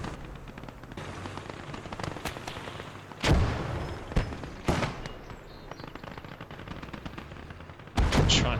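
Mortar and artillery fire rings out in the WWII game Gates of Hell. Several loud, booming blasts land a second or so apart over a continuous crackling battle din, with a further heavy impact near the end.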